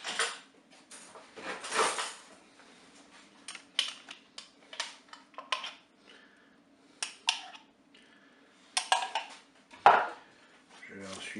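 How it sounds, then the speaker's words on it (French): Spaghetti and mustard are stirred in a Cookeo electric pressure cooker pot, heard as quiet, intermittent scrapes and clinks of a utensil against the pot in a calm room. "Je vais maintenant mélanger."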